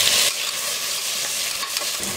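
Loud sizzling of onion and tomato sautéing in a pan, with scraping and stirring noises throughout, close and continuous.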